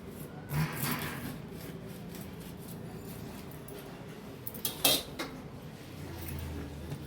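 A knife chopping through the tail of a halwa fish on a hard board, a few sharp knocks and scraping clatters amid quiet handling noise, with one louder thud midway.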